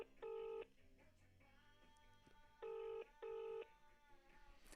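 An outgoing telephone call ringing back, three evenly spaced electronic ring tones sounding close and clear between quiet gaps.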